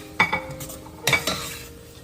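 Green chillies and curry leaves go into a frying pan of sautéed garlic for fish kulambu, giving a soft sizzle and two distinct bursts of a spoon clinking and scraping against the pan while stirring.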